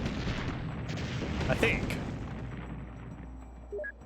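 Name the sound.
vehicle cannon fire in video game Extreme Tactics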